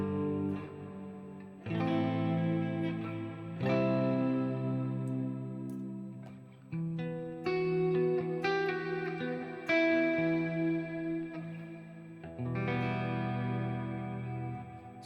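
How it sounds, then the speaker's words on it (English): A music track in Pro Tools plays with a reverb plugin added, sustained tonal chords changing every couple of seconds with a washed, echoing tail, steady and fairly loud with no talking. "So I might want to add some reverb here."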